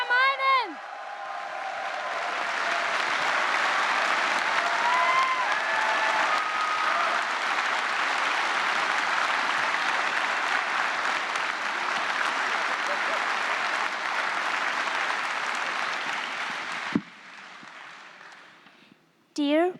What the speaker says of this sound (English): Big applause for Julia Maynem!